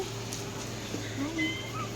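A cat gives a few soft, short meows while being petted, heard up close in a quiet room with people chatting nearby.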